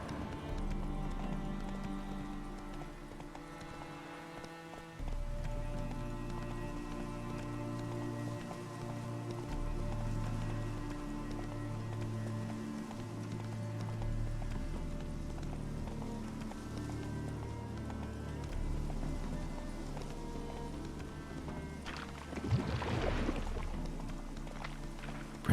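Hooves of the horse Roach clip-clop in a rapid galloping rhythm in The Witcher 3, steady over ambient game music, with a louder rustling burst near the end.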